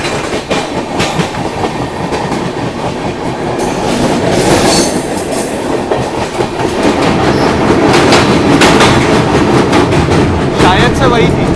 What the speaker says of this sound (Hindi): ये वाली जो आप लोग ट्रेन जाते हुए देख रहे हैं ये निकल गई दोस्तों